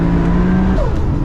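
A 700 bhp Nissan R33 GTR Skyline revs hard and loud close by, its engine note holding high for most of a second before dropping sharply as the throttle lifts.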